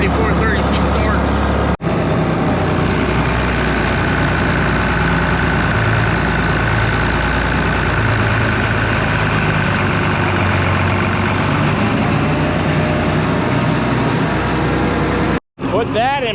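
A John Deere 4430 tractor engine held a little above idle, a steady close diesel rumble that runs without a break, with someone talking over it.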